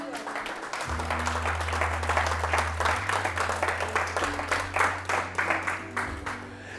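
A church congregation claps together in a quick, regular rhythm, the applause steady and fairly loud over a sustained low organ or keyboard drone.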